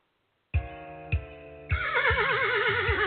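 A horse neighing sound effect played on a radio show, with two short whinnies followed by a longer, wavering neigh, clear and fairly close.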